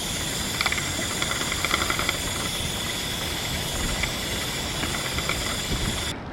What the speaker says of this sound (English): it's time to apply the Wight chain lube